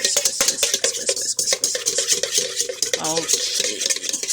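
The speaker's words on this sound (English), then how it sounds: "Whisk that really good there." Hollandaise sauce mixture with cayenne pepper being whisked briskly in a bowl, a dense run of rapid metallic clicks and scrapes, close and steady without pause.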